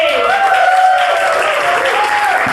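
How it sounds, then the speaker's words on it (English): Audience applause at a live theatre evening of short plays, a dense, steady burst of clapping from the crowd with a voice calling out over it. "One more round of applause for Ted Brugman, everybody!"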